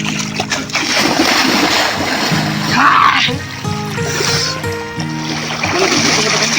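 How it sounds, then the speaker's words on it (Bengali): Person bathing outdoors dunks into the water with loud continuous splashing and sloshing, voices talking over the water throughout. "আর একবার ডুব দিচ্ছি, দেখো।"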